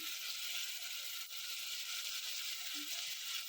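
Ingredients for pavtyacha bhat, a rice dish with field beans, sizzling in a pan, a steady, faint hiss that continues without break and with no voices.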